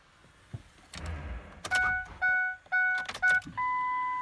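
A Ford's ignition key is cycled off and on, bringing a run of close electronic chimes and beeps in short repeated bursts, with faint clicks and rustle before them and no talk.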